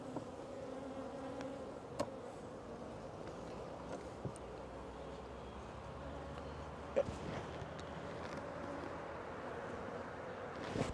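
Honeybees buzz inside a well-filled hive being checked for winter readiness, a steady close-up drone that holds for the whole stretch, with a few soft knocks.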